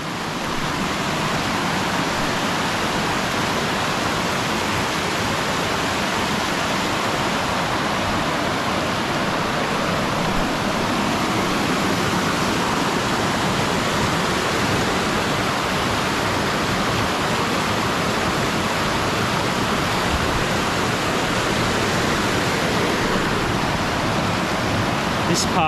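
A fast-running flooded river near a waterfall campground roars loudly and without break, a dense, steady rush of water that holds for the whole long stretch.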